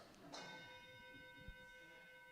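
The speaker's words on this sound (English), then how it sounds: "Would you please gong us?" A struck gong rings once near the start, its bright metallic tone sustaining and slowly fading over a couple of seconds in a quiet room.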